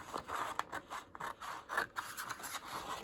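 Scissors snip through paper while making a junk journal pocket, a run of quiet, close crisp cuts and rustles in an irregular rhythm with no talking.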